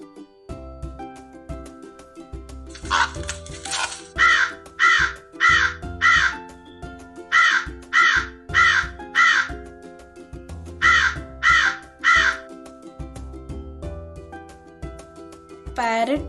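A crow gives a series of about a dozen harsh caws in rhythmic groups of three to four, loud and close, over a steady tonal musical background.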